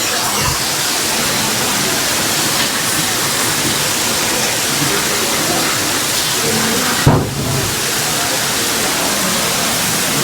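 Natural water pours steadily at Akasa Ganga in Tirumala, a loud, continuous close rushing roar with one brief thump partway through and no voices.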